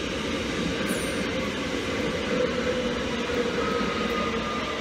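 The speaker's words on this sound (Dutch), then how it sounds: "Dan komt die trein langs." A train rolls past a platform in a steady, loud rumble that lasts throughout, with wheel and rail noise and a brief high squeal near the start.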